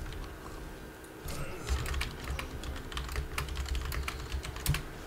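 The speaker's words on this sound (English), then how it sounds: "I'm typing back in time right now" Rapid clicking of a computer keyboard being typed on during a HoN esports tournament broadcast, steady bursts of keystrokes fairly close over a low background hum.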